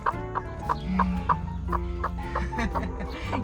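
Broody hen clucking in a wooden nest box, a steady series of short, close clucks with an angry, grumbling tone, with faint voices underneath.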